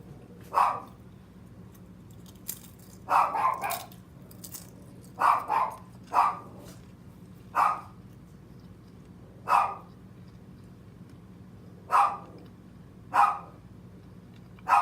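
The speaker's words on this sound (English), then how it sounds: "people can't even stand on their porch no more without him barking" A dog barks repeatedly at a steady, spaced rhythm, single and double barks a bit distant, over a low constant hum with no talking.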